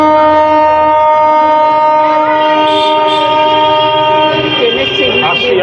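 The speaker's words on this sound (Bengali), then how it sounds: "ট্রেন হর্ন মারছে" A train sounds its horn in one long, loud, sustained blast that holds for several seconds, with some background chatter and commotion underneath.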